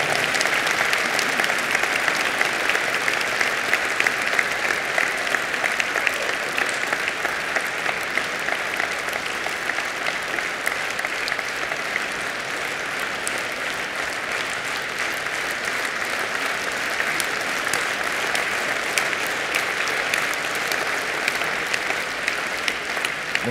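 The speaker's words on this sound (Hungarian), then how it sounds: "Most egy picit megleptetek, hogy ennél tapsoltatok a leghosszabban." A large audience applauds a political speech in Hungary, sustained dense clapping that carries on steadily and loudly throughout with no break.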